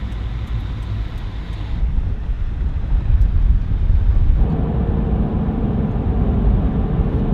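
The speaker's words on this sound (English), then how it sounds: "It's always windy here" Steady low rumbling wind buffets the microphone at Chitina on Alaska's Copper River, broad and continuous, swelling slightly midway with no voices present.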